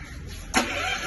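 Petrol portable generator of about 5 kW cranks and catches halfway through, a sudden burst of engine noise settling into a steady running hum after a quiet lead-in.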